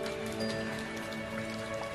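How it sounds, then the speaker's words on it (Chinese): Rain falls steadily in Chengdu, a dense, even patter of drops that holds at a constant moderate level throughout with no voices. "天天下雨。"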